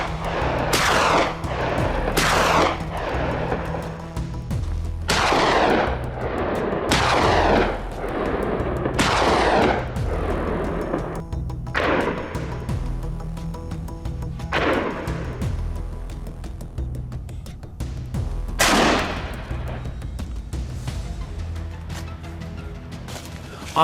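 Rifle shots ring out during a wild boar hunt on a hillside: about a dozen loud, booming reports fire at irregular intervals, each trailing off with a rolling echo.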